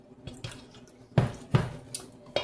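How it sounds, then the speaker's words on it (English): Water pours from a tap in short splashing bursts into a bowl of sourdough starter and flour for raisin bread, close and fairly quiet, with a few louder gushes and no talking. "And then I'm going to add 1 1/4 cup of water"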